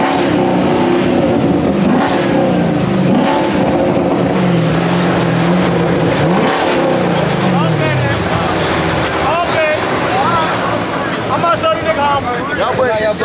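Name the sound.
car engine revving at a car meet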